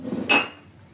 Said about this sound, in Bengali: আমি এবার কড়াইটা উনুন ধরিয়ে কড়াইটা বসিয়ে দিচ্ছি